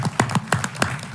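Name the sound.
people clapping in a hearing room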